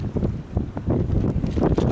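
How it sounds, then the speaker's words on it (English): Wind buffets the microphone on the deck of a 2007 Lagoon 420 sailing catamaran, a loud steady rumbling roar with gusty low-end swells throughout. "Let's see if we can get out of the wind a little bit."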